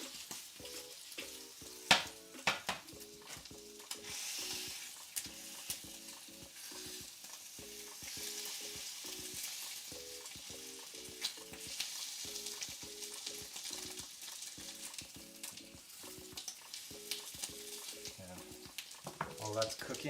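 Hamburgers frying in a pan give a steady background sizzle under louder music with a repeating rhythmic pattern, plus occasional clatters and stirring sounds.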